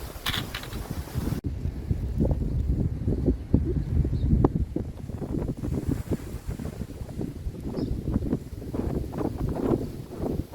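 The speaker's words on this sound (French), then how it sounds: "j'ai le vent dans le dos" Steady wind buffeting the microphone on a road, a continuous low rumble with gusty swells throughout, nothing else standing out.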